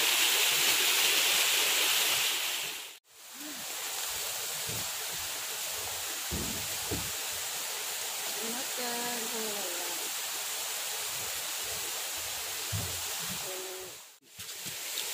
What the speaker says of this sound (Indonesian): Nakamura waterfall.